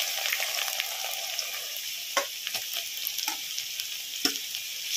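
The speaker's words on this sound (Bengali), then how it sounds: "রসুনটা একটু পেঁয়াজের সাথে ভেজে নেব।" Garlic paste frying with chopped onion in hot oil for a cock chicken curry, a steady close sizzle crackling throughout, with a few sharper spatters and stirring scrapes near the end.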